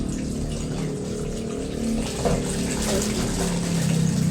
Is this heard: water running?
yes